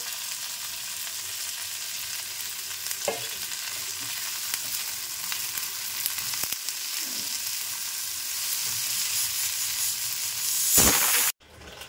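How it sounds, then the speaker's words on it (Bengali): Chopped green chillies sizzle in a pan with a constant close crackle, broken by a few faint stirring knocks and a sharper burst of spitting near the end. "কুচিয়ে রাখা লঙ্কাগুলো দিয়ে দিচ্ছি।"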